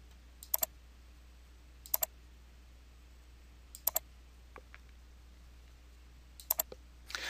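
Computer mouse clicks while working in an Excel dialog: four sharp double clicks spaced a couple of seconds apart, close and crisp over a quiet room hum, with faint smaller clicks between.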